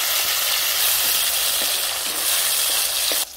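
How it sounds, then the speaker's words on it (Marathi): Mustard seeds and cumin sizzle in hot oil in a pan, a loud, continuous close-up hiss with faint crackles that cuts off abruptly near the end. "फुडण्यासाठी 1 पळी तेल वताय फुडण्यासाठी 1 चमचा मोहरी टाकायची 1 चमचा जिरं"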